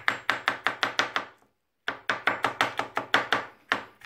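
A knife chops rosemary and ingredients on a board for oven-baked bonito, a quick even run of about eight crisp close strikes, a brief pause, then another steady burst of around ten, with no talking.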